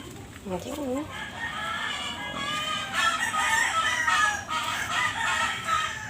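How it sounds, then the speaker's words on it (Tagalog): A neighbour's rooster crows in a drawn-out, wavering call at moderate distance, with clucking from other chickens close by and faint background noise. "May nakamanok doon sa kapitbahay."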